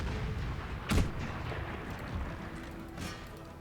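Battle in Empire: Total War with distant artillery and musket volleys, two deep booming blasts standing out over a constant dense rumble of far-off gunfire.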